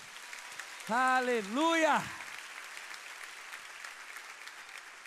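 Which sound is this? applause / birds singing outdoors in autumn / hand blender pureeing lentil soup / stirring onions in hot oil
applause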